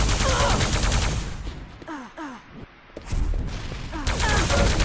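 Plasma gun fire in a Quake-style team deathmatch tournament, a loud rapid stream of zapping shots with repeated descending pew tones. There is a brief lull midway before the barrage resumes, with a commentator talking over it.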